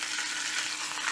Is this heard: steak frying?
yes